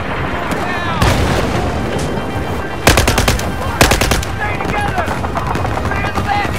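Sustained machine gun fire and explosions in a Battlefield 4 battle in Singapore, loud and continuous, with two sharp bursts of rapid rattling fire standing out above a dense roar of combat.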